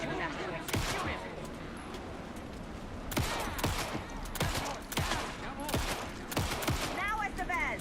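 Gunfire in the Alan Wake 2 video game: dense bursts of shots and rapid fire crackle loudly over several seconds, with voices talking amid the shooting.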